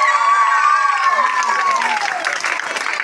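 A crowd claps steadily at the prize ceremony of a 2024 panchayat-level sports competition in a village. The applause is loud and continuous for the whole stretch, with an announcer's voice speaking over it.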